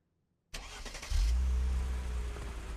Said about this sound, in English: They will hit you with the car. They will not slow down.